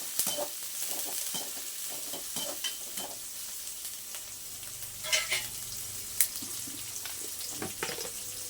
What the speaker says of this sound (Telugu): ఆనియన్స్ ఇవి కొంచెం దోరగా వేయించుకున్న తర్వాత దీంట్లో టమాటాలు వేసేసుకున్నాము